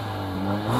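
A Mercedes-AMG A45 S engine revs briefly through a standard exhaust, its note climbing in pitch over a split second, loud and close.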